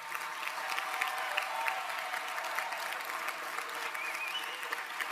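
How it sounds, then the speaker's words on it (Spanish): Sustained audience applause at a political closing event, many hands clapping in a dense, even roar with scattered crowd noise and a faint voice underneath. "Quiero pediros un aplauso cerrado también para los compañeros de Brasil"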